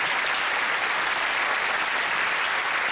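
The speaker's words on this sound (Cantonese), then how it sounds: "大家喺度俾好熱烈嘅掌聲" Warm, sustained applause from an audience at an evening talk on meditation and happiness, a dense even patter of many hands clapping steadily throughout with no voices on top.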